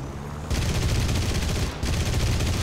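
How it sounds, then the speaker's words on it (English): Guns firing in the video game War Thunder, a dense rapid burst of automatic fire that cuts out briefly and then resumes, loud and close. "I overheated both of my guns"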